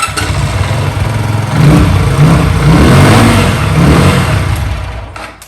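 Close, loud engine of a Zontes Scrambler 125cc motorcycle idling, then revved in a few swelling blips before settling back down.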